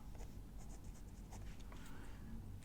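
A pen writes by hand on dotted pages of a paper work planner, faint scratchy strokes in short bursts close to the microphone over a low steady background hum.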